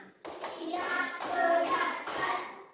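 A classroom clapping game: children clap in short rhythmic bursts between a teacher's spoken counting cues, with voices in the clip between the claps.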